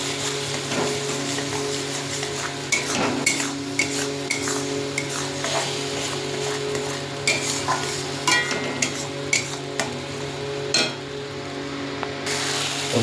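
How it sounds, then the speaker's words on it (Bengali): Spice paste with Kashmiri chili powder and turmeric frying in oil for a vegetarian tel koi dish, with a steady sizzle under repeated close scraping and stirring of a utensil against the pan. "বেশ সুন্দর করে মশলাটাকে আগে ফ্রাই করে নেব।"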